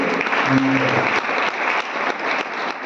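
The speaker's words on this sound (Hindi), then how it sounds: "प्रोफेसर सर के लिए जबरदस्त ताली होना चाहिए" Audience applause rings out at a talk, continuous clapping from a crowd that stays fairly loud across the few seconds, with a brief voice tone near the start.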